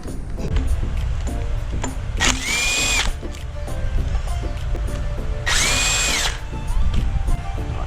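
A power tool whirs steadily while working on bolts of a Nissan 350Z drift car being swapped to a 1JZ engine, with two loud high-pitched bursts of spinning under a constant mechanical drone.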